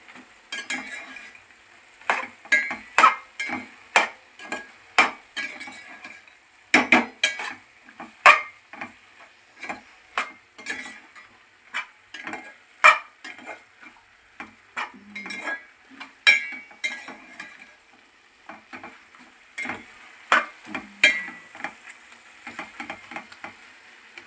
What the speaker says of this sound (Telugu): వేసుకున్నాం కదా, దీన్ని కూడా మళ్ళీ కలిపేసి